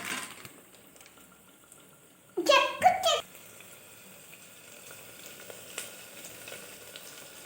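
Egg frying and being stirred in a pan, a faint, continuous sizzling hiss close by, briefly interrupted by a short burst of a voice partway through.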